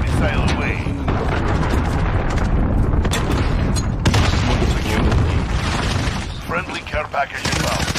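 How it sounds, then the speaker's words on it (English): Loud, continuous battlefield din from a cruise missile strike in Call of Duty Modern Warfare multiplayer, with heavy booms and gunfire blending into sustained rumble, and a voice talking over it. "Allied cruise missile away."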